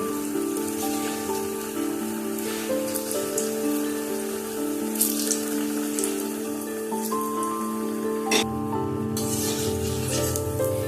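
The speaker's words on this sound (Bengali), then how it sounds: "একইভাবে বাকি কোফতাগুলোকেও ভেজে নেব।" Raw banana koftas fry in hot oil with a steady, dense sizzle and crackle, moderately loud and continuous, with a brief clatter partway through.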